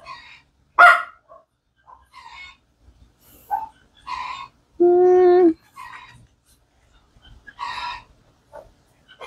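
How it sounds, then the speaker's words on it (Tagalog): Dogs bark in scattered bursts, some close and loud, some farther off, with one dog letting out a drawn-out howling whine midway. "nagkahulan yung mga aso"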